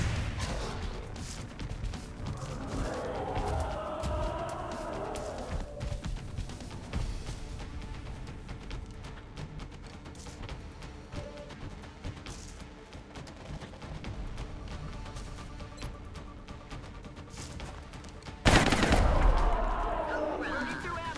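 Repeated bursts of gunfire from the XCOM Long War video game crackle throughout, with a louder, heavier volley near the end, under a constant layer of in-game sound.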